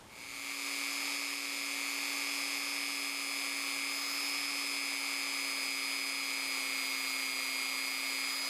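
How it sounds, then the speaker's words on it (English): A Dremel rotary tool spinning a wire wheel to clean the lettered ferrule of a Wright square shank machinist screwdriver gives a steady, loud high-pitched whine with a constant tone, running unbroken throughout with no talk. "I took my Dremel and a wire wheel and got inside"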